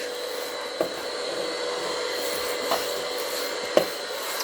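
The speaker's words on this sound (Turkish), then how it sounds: "her yere erişebiliyor süpürge" A vacuum cleaner runs steadily over a floor, its even whirring drone filling the short stretch alone, broken by a few faint knocks as the nozzle bumps along.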